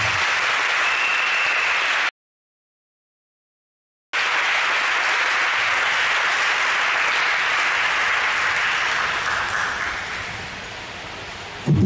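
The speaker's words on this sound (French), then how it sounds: "On peut aussi acclamer pour eux, c'est une grâce." A crowd at a prayer gathering applauds loudly in a dense, continuous wash of clapping. A sudden two-second silence breaks it before the applause resumes and slowly tapers.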